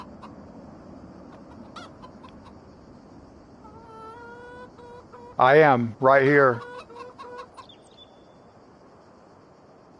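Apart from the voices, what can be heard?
chickens clucking, from video game Calm Lands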